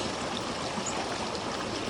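Shallow water trickles steadily over small stones placed along the edge of a freshly built backyard pond, a continuous close babbling wash with no voices.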